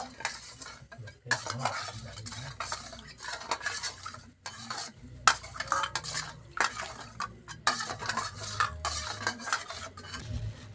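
A spoon stirs a homemade vinegar mixture containing citric acid in a container, giving repeated scraping and clinking strokes with brief pauses, close and steady, with no talking.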